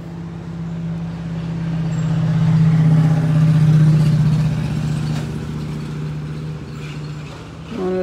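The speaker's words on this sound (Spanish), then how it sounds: "Por ahí va a pasar un carro." A car passes on a residential street, its engine hum swelling to a loud, steady peak midway and then fading, with a sharp sound near the end.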